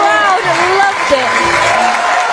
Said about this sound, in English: The crowd loved it.